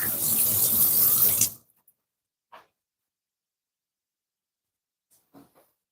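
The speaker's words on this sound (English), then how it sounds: "Just gonna rinse my hand out of it." Running water from a tap splashes loudly and close up as hands are rinsed. It cuts off sharply after about a second and a half, and a few faint small knocks follow in the quiet.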